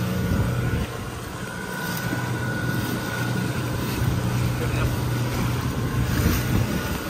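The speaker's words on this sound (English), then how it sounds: "I'm going to loosen up my motor. The motor's turning." An outboard boat motor drones steadily and loudly throughout as the boat turns on open water, its low hum mixed with wind noise across the microphone.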